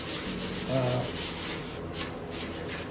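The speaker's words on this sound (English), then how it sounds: "I'm just going to sand the south side of this just a little bit" Sandpaper rubs by hand across a wooden artwork frame in steady back-and-forth strokes, a soft continuous scratching hiss close by.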